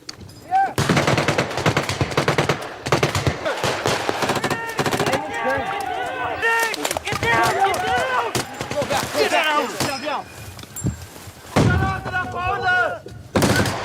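Machine-gun bursts and scattered gunfire in a WWII-style battle against German forces in rugged Italian terrain, loud and dense throughout, with shouting voices mixed in between the shots.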